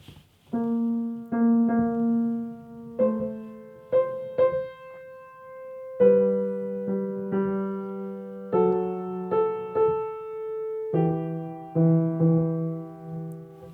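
A short melodic phrase, the vocal rhythm of Beethoven's Benedictus, is played on a sustained keyboard-like instrument, notes moving in a distinct rhythmic pattern with clear pauses, alone and fairly soft.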